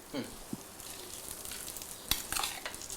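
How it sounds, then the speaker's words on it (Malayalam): Faint sizzling from a pan, with a few soft scrapes and clinks of a utensil stirring the food. "ഇതിൽ വറുത്തിട്ട് ഇനി ഇത് ഒന്ന് മിക്സ് ചെയ്ത് മിക്സ് ചെയ്തിട്ട്"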